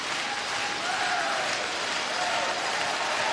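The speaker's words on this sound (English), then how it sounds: "And the crowd applauding this one into the rings." Steady applause from a large arena crowd at a world men's curling championship, a dense continuous wash of clapping that holds at an even level throughout.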